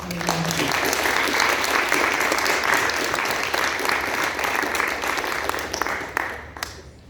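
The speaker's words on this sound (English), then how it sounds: "Just give them a round of applause" An audience at an evening stage event applauds for several seconds, a dense steady wash of clapping that thins and fades near the end.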